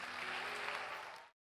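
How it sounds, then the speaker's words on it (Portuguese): Church congregation applauding during a Portuguese-language worship service, a dense, steady wash of many hands clapping for about a second before cutting off abruptly. "Um forte aplauso ao Senhor."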